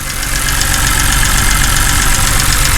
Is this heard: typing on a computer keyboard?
no